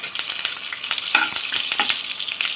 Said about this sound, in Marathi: त्याच्यात जिरं घालूया, कढीपत्ता घालूया